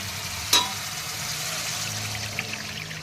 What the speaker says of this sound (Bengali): এখন আমি পরিমাণ মতো একটু জল দিয়ে দেবো।